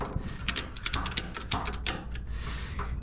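A ratchet tightens a lasso strap around a vehicle tire, giving a series of sharp, close mechanical clicks in uneven bursts over a low rumbling background.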